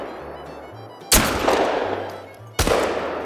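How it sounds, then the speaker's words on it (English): Hunting rifle shots in TheHunter: Call of the Wild video game during a Cape Buffalo hunt, two loud sharp cracks about a second and a half apart, each trailing off in a long echoing decay. "Hold on, let me shoot it with the gun."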